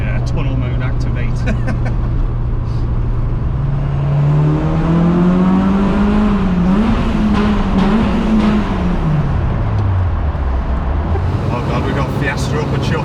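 A Citroen AX VTS engine revs up inside a tunnel, the note rising and falling with a loud, echoing exhaust drone, while people talk over it.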